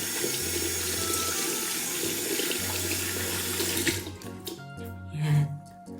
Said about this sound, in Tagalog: So after washing our hands